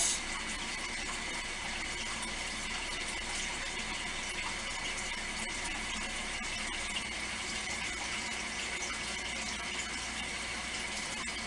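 Resin poured steadily into a mould, a continuous liquid stream with an even, unbroken trickling texture held at a constant moderate level throughout.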